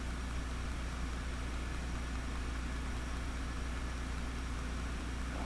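Steady engine of a side-by-side utility vehicle running during farm work, a constant low idling drone with broadband noise throughout and no breaks.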